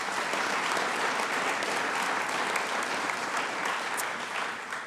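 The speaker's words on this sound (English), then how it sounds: "Let's give them a round of applause." An audience applauds in a city council chamber at a swearing-in ceremony, dense sustained clapping from many hands filling the room, fairly loud and steady, tapering slightly at the end.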